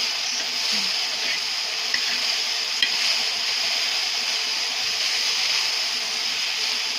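Vegetables salted and stirred in a pan in a village kitchen, giving off a steady, loud hissing sizzle throughout, with a faint clink of the spoon now and then.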